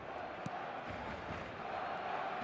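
A big stadium crowd in the eFootball video game keeps up a steady, distant roar and murmur that sits under everything for the whole stretch, with one brief louder shout.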